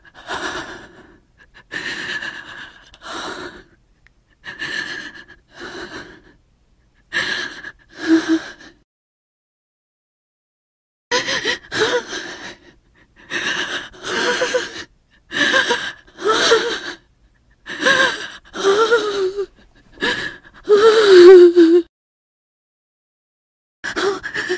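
Heavy, labored breathing from someone lying beneath a car comes in repeated ragged gasps and wheezes, close and loud, in bursts separated by silent pauses, with some strained whimpering toward the end.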